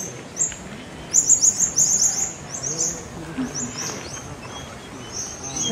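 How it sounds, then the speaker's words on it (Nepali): A pair of parrots in Morialta Conservation Park, South Australia, give repeated sharp, high chirping calls in short bursts, fairly close, over soft outdoor background with faint talk. "यस्तो राम्रो सुगा छ, दुईटा जोडी सुगा बस्दा रहेछ"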